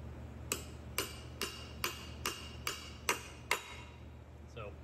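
A Böhler K890 steel knife blade is struck through copper in eight evenly spaced, sharp metallic impacts, each a crisp bright crack with a short ringing tail at moderate volume.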